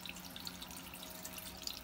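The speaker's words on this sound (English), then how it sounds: "There's your excess water." Excess water draining out of a Bunn coffee maker, a faint steady trickle with light drips, quiet and close, no talk.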